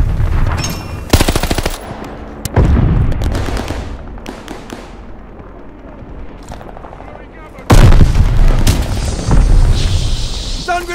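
Call of Duty Vanguard beta combat on PS5 with an M1A1 Thompson: rapid machine-gun bursts and gunshots crack close, with a heavy grenade blast and dense fire at the end, and game voices occasionally call out over the battle.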